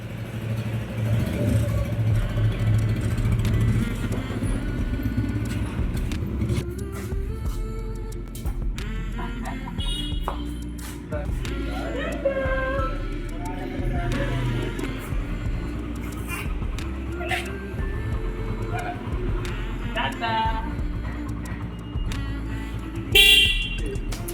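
A motorbike ride with a small boy on board, threading through road traffic: steady engine rumble and revving, with several car horns honking nearby and in the distance, no talking.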